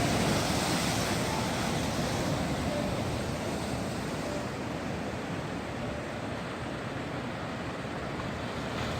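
Lake Superior waves break on the shore in April, a steady, loud wash of surf with wind noise and no voices.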